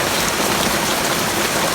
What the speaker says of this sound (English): It is raining very heavy this morning.